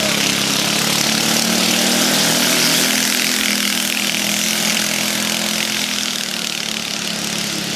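An unmuffled dirt kart engine races at high revs at an oval track, a loud, raspy, continuous drone that holds steady throughout.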